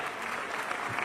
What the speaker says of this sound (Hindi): सबसे पहले तो बधाई देना चाहूंगी और इनके लिए जोरदार तालियां।